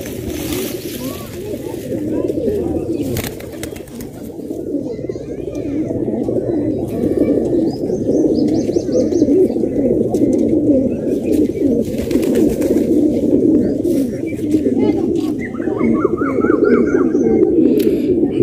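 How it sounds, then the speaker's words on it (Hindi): Pigeons coo continuously in low, throaty rolling calls, with a few higher chirps mixed in and occasional clicks; close and fairly loud throughout. "ये देखें जी माशाल्लाह एक और ज़बरदस्त कबूतर मौजूद है"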